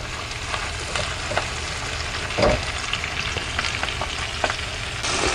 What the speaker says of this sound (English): Our salt, pepper, and garlic powder. And we're just going to saute that lightly.